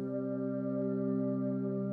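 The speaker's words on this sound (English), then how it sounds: "Sounds you're hearing is coming from my pedal board right now." A sustained, steady ambient guitar drone comes from a pedalboard of effects, smooth and even throughout with no talking.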